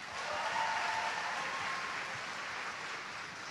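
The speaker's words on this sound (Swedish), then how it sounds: "En applåd för Anders." Steady applause from an audience at a cosplay competition stage show in Stockholm, a dense wash of clapping that swells briefly then holds at a moderate, even level for a few seconds.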